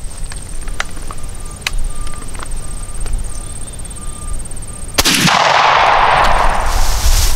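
A shotgun blast being sighted in, one loud broadband report near the five-second mark that cuts sharply into sustained rumbling noise, following a stretch of faint outdoor ambience with scattered clicks.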